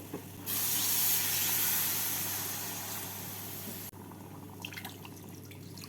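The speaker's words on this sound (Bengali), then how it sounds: "এবার এর মধ্যে আমি দিয়ে দেব দু কাপ জল" Two cups of water are poured into a hot pan while making egg laziz, bursting into a loud, close hiss and steamy sizzle that slowly fades over a few seconds before cutting to quieter bubbling and faint clinks.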